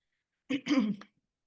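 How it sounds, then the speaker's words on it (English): A short throat-clearing cough from hay fever, two or three close bursts in under a second, fairly near and moderately loud, with silence around it. "I have hay fever. Sorry about the coughing."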